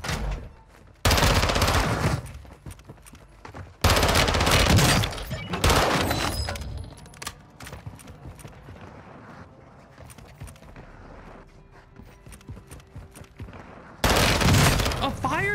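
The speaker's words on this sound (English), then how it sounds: "A fire shotgun?" Shotgun blasts from an incendiary fire shotgun in the shooter game Warzone 2, several loud heavy bursts at irregular intervals with quieter game ambience and chatter in between.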